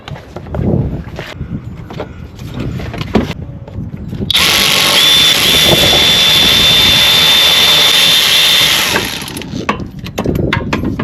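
An electric ratchet with an E8 socket and downsizer spins off alternator bolts on a Dodge Grand Caravan, a loud, steady high whir lasting about four seconds, set between clanks and rattles of tool handling.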